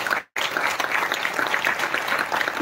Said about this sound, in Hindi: एक बार जोरदार तालियां उनके लिए हो जाए